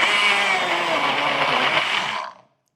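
Electric blender running steadily, grinding spices with coriander seeds into a smooth paste; loud whirring motor noise holds for over two seconds, then cuts off abruptly.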